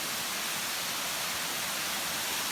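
The second of the Dunukaragoda waterfalls in a Sri Lankan rainforest roars as a steady, dense, uniform rush of falling water, loud and close with no other sounds.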